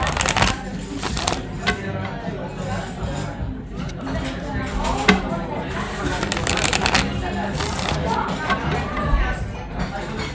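Tarot cards are shuffled close up in quick, repeated riffling bursts, with a voice talking over the papery flutter throughout.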